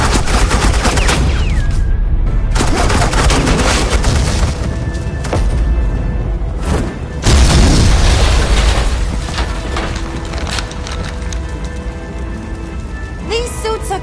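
Suppressing gunfire in the Batman: The Evil Within game, loud bursts and booming blasts layered over dense battle noise, with a voice speaking over the clamor throughout.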